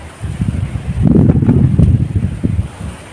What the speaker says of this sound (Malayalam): നല്ല കാറ്റാണ് കേട്ടോ, നല്ല കാറ്റ് എന്ന് വെച്ചാൽ നല്ല കാറ്റ്.